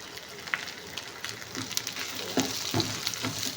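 Two dry red chillies fry in a pan with a steady, fairly quiet sizzle and crackle, and a few sharper pops and stirring clicks come through near the end.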